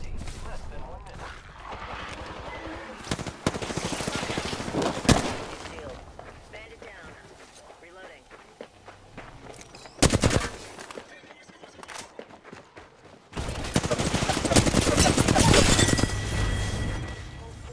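Gunfire in the Apex Legends video game, with loud bursts and rapid volleys alongside crashing blasts and game effects, while voices talk over parts of the action.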